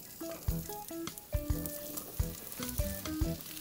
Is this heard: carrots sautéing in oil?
yes